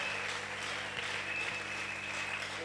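A church congregation applauds steadily in a hall, a soft, continuous wash of clapping with a faint hum in the background.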